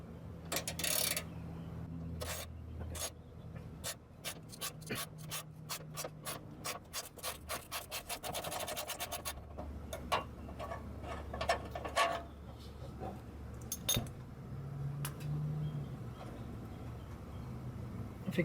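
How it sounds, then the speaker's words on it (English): A 13mm socket wrench ratchets in quick repeated clicks while loosening a bolt on a dented chrome truck bumper, close and moderately loud, with scraping and rubbing between strokes and no talking. "So I'm going to loosen up this one bolt that's still holding the bumper."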